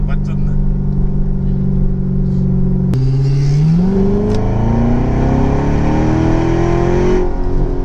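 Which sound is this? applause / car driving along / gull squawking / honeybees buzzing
car driving along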